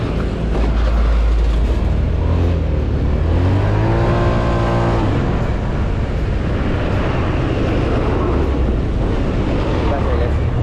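An automatic scooter fitted with upgraded racing rollers pulls away on a fairly straight road. Its engine drones loud and close, with a rising whine as it accelerates and steady wind rush throughout.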